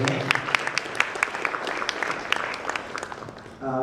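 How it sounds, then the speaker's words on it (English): Scattered audience clapping at a business event after a talk, individual sharp claps standing out in a moderate, uneven patter that thins toward the end. "Let's clap for him."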